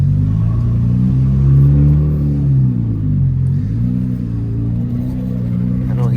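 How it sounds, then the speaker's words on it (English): Nissan Z fitted with upgraded turbos rumbles loudly at close range, its deep engine tone rising and falling through moderate revs, while someone talks over it. "Gotta be extra careful because this car is extremely loud now"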